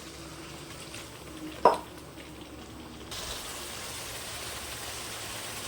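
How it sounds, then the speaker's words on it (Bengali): Spice masala frying in a pan with a little water added. A low, even hiss runs throughout, with one sharp clink early on, and the hiss grows slightly fuller and brighter partway through. "মশলাটা একটু কষতে থাক, আর একটু জল দিয়ে কষিয়ে নেব"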